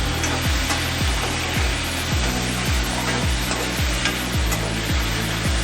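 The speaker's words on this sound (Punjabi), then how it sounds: "ਟਮਾਟਰ ਵੀ ਐਡ ਕਰ ਲਾਂਗੇ ਵਿੱਚ। ਇਹਨੂੰ ਵੀ ਆਪਾਂ ਜਿੰਨਾ ਨਰਮ ਹੋਣ ਤੱਕ ਭੁੰਨਣਾ ਆ।" Tomatoes are stirred and sautéed in a pan for palak paneer. A steady sizzle runs underneath regular scraping strokes of a utensil, roughly two per second.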